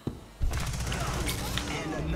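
Rapid gunfire in a competitive team shooter match, with a sharp opening shot and then a sustained burst of overlapping rounds and impacts, close and loud.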